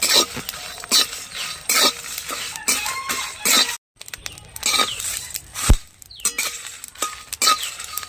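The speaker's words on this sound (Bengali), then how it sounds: "এবার আমি মশলাগুলো ভালো করে ভেজে নেব" Panch phoron spices and bay leaves are fried in a pan for a sour-sweet amra pickle. A spatula scrapes and clinks against the pan in repeated close, bright strokes, with one short pause and no talk.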